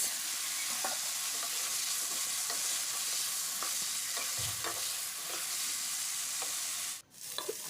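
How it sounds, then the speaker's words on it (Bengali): Chopped carrots and potatoes are stir-fried together in a pan, giving a dense, even hiss of frying oil with soft spatula taps and scrapes now and then, steady and unvoiced. "গাজরটাও একটু আলুর সাথে ভেজে নেবো একটু নাড়াচাড়া করে নিলাম"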